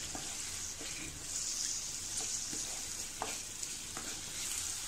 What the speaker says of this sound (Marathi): हा मसाला सुद्धा आपण आता थोडं तेल सुटेपर्यंत परतूया याच्यामध्ये